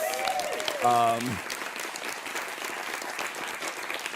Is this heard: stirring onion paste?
no